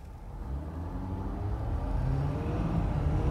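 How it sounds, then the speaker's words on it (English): 2021 Ford F-250 Platinum Tremor diesel pickup pulling away from a stop sign, a low steady engine rumble building gently as it accelerates and shifts toward second gear, heard from inside the cab. "I'm gonna stop at this stop sign and give it a little bit of gas and see if it goes to second gear"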